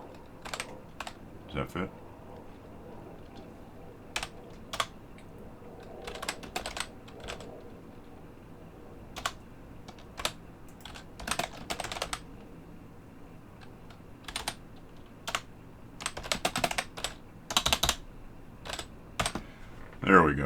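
Bursts of typing on a computer keyboard at a desk, quick clattering clusters of keystrokes separated by pauses, with someone talking briefly over a faint background hum.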